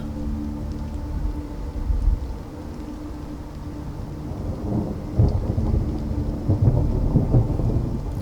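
Steady, dense rainfall pours down alone, with deep thunder rolling low in the background and a louder swell of rumbling near the end on a rainy evening.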